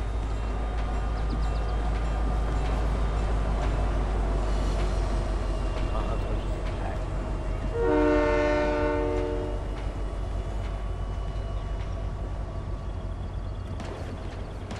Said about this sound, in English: Hope to goodness no one's on that train.